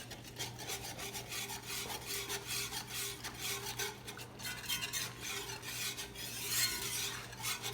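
A whisk scrapes and stirs a Cajun shrimp and grits sauce in a pan, giving steady rhythmic rubbing and clinking strokes of metal on the pan, fairly quiet, with no talk.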